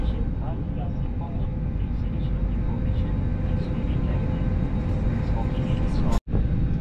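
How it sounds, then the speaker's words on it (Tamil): Large passenger airliner being pushed back from the gate at Singapore's airport, a steady loud low engine and ground-vehicle rumble filling the scene, with a brief dropout near the end. "கைஸ் ஃப்ளைட் அப்படியே ரிவர்ஸ்லேயே போயிட்டுருக்கு"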